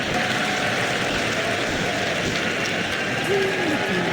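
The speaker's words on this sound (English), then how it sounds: "I can never tell if the crowd is cheering for a pick or if they're cheering for themselves being on screen right there" A large esports arena crowd roars and cheers during a Dota 2 International 2024 match, a dense, sustained wash of noise filling the hall with no clear individual voices.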